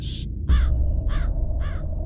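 A crow gives four harsh caws in a quick, evenly spaced series, loud and close, over a low rumbling background.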